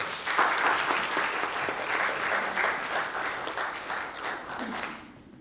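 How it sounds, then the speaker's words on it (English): An audience applauds panelists at a book panel discussion for the 40th anniversary edition of Daughters of the Island, giving steady, dense clapping from a crowd that holds for several seconds before fading at the end. "Let's give our panelists a round of applause"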